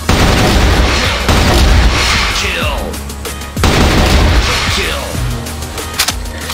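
Repeated gunfire from an AK-47 in a shooter video game, loud rapid bursts with booming shots, two long volleys separated by a brief pause.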